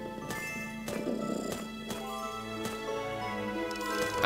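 A cat purrs in the video game Let the Cat In, a soft rumbling purr under game music, with several short sharp clicks or thumps spaced through it.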